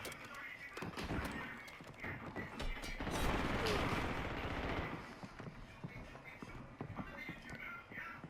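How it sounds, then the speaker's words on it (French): Clicks and clacks of a magazine reload in Call of Duty, a run of close mechanical rattles amid intermittent gunshots and game noise, while a player talks over it. "Changement de chargeur."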